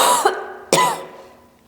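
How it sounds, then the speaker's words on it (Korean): Two sharp coughs from a lecturer teaching a class, the second louder and followed by a short throat-clearing tail, close and clear against an otherwise quiet room. "수업하다가도 기침하잖아"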